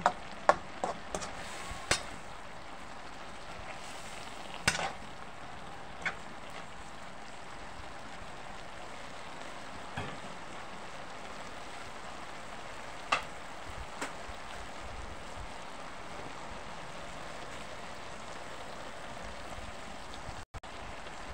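Cabbage sautéing with Palm corned beef in a pan, a faint, steady frying hiss with a few scattered light clicks and taps, quiet and unbroken.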